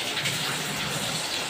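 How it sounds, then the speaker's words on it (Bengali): Water splashes and rushes steadily as vegetables are rinsed in a home kitchen, a continuous close gush with no talk over it. "এই যে সবজিটা ধুয়ে নিচ্ছি, ভাতটা উঠলে পড়বে ভাবতেছি তাড়াতাড়ি করে, ওই জন্য সবজিটা ধুয়ে নিচ্ছি তাড়াতাড়ি।"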